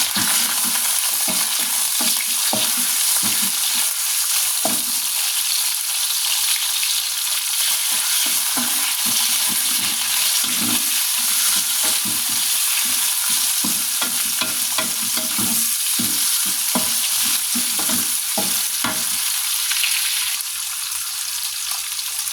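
Pork stir-frying in a hot pan, a steady loud sizzle with repeated scraping and clattering strokes of stirring throughout, no voices.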